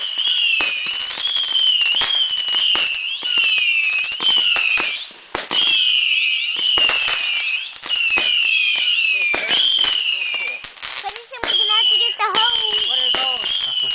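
Fireworks at a backyard fireworks party, with whistling rockets screaming and crackling bursts going off almost continuously, loud and close; voices are heard now and then between the blasts.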